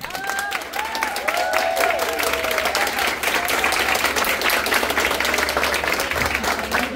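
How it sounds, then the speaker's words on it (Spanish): Loud, dense clapping from a live comedy-show audience for a participant named Luz Elena, with some cheering and voices mixed in, continuous throughout. "Aplausos para Luz Elena."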